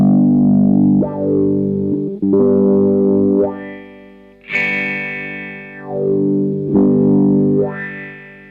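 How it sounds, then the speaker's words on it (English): Electric guitar run through a GFI System Rossie envelope filter pedal set for a wah sound, sustained notes and chords sweeping up and down in repeated vowel-like swells, loud and close with no talking. "you can basically fine tune a wah sound that is super cool"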